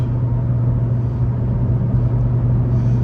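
A 1988 Audi Ur Quattro MB at idle, a steady low engine rumble with a constant hum, close and unchanging, nothing else over it.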